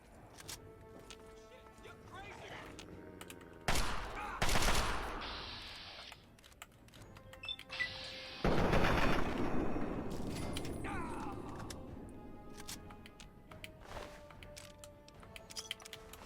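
Gunfire from the video game Fallout 3 at Evergreen Mills, bursts of rapid shots and impacts coming in two loud clusters between quieter game ambience and clicks, with a voice speaking briefly.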